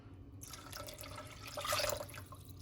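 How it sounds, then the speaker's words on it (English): Tap water runs and splashes into a jar being filled for a spicy vegan soup, a soft steady trickle that swells briefly before easing off. "I'm gonna have to probably fill up this whole jar with that amount of water"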